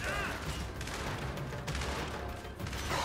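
Gears 5 video game gunfire during the Hivebusters DLC: rapid bursts of shots crackle under a dense, noisy battle mix, sustained and fairly loud against the game's background.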